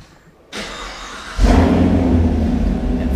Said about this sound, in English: It fires right up. It's like the roar of a lion.